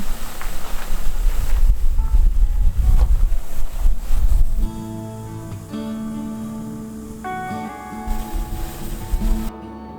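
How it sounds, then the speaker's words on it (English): A cold breeze buffets the microphone outdoors in Big Bend, Texas, with loud, rumbling low gusts for the first few seconds, then easing into a quieter wind with steady tonal hum beneath it. "Oh, it's a cold breeze."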